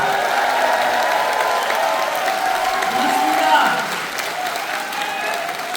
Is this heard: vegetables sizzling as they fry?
no